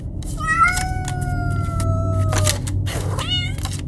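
A cat meows plaintively from behind a kitchen door, two or three wavering cries close by with faint background noise between them; scratching is not clearly distinct.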